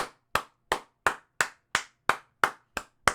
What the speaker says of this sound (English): I'm clapping for people that have done it.